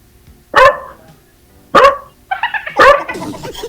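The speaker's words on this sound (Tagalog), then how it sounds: "Hindi maingay pa ang aso dito." A dog barks three times in sharp, loud bursts about a second apart, close by, with a short whimpering yip between the last two barks.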